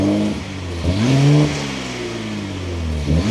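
A 2026 Nissan Z with a twin-turbo V6 and manual gearbox fires up and runs, its loud, close engine note rising and settling as it revs briefly, then holding a steady idle hum.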